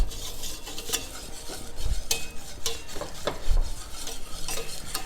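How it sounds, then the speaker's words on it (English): Whisk scraping and stirring flour, onions and milk into a thick paste in a pan, with repeated brisk clinks and scrapes plus a faint sizzle, close and moderately loud, no talking. "So just whisk, incorporate everything"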